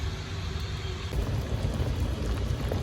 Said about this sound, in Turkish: Evet keşkeğimiz kaynamaya başladı.